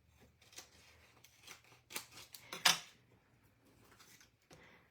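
Scissors snipping paper into thin strips for Christmas card making, a series of close, crisp cuts in quick irregular bursts, one louder snip near the middle, in a quiet room.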